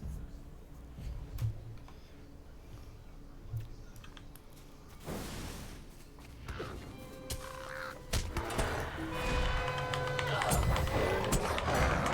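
A crow caws a few times, loud and fairly close, over a noisy outdoor background with scattered ticking and rustling that thickens toward the end.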